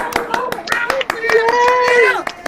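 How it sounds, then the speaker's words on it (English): A comedy show audience claps for the comic in residence: a loose scatter of sharp handclaps over roughly two and a half seconds, mixed with voices and cheering from the crowd. "Clap for him"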